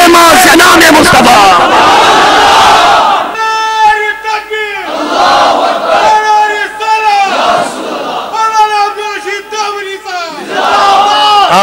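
A large crowd at a religious gathering roars a slogan in repeated call-and-response bursts, loud massed voices swelling and fading, with a leader's shouts between the chants.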